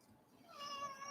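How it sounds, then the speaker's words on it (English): A single drawn-out cat meow rises and holds for about a second, soft and close, alone with no talk over it. "What a beautiful and wonderful kitty friend."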